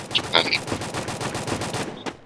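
Rapid automatic gunfire from the mobile battle royale game Free Fire during a ranked match: a steady, evenly spaced string of sharp shots, loud and close, that breaks off near the end.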